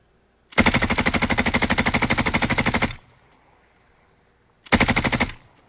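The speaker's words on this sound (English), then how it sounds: "Somebody shooting you behind, from behind." Sustained automatic gunfire from behind in Call of Duty Modern Warfare rips out as one long rapid burst of about two and a half seconds, then a shorter burst follows after a pause. Both are loud and close, with no talk.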